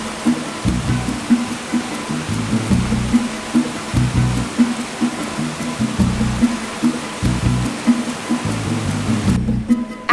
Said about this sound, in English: seeing a waterfall up close for the first time